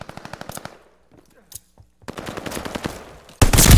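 Rapid automatic gunfire from the video game Call of Duty: Vanguard rattles in loud close bursts, broken by a short quiet gap before a final, louder volley.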